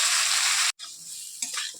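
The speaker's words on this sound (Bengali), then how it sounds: "ওই তেলের মধ্যে এঁচোড়গুলো দিয়ে দেবো, দিয়ে একটু ভাজা ভাজা করবো।" Parboiled jackfruit pieces fry in hot oil with a loud, steady hiss, broken by a brief pause before the sizzle resumes alongside scraping stirs.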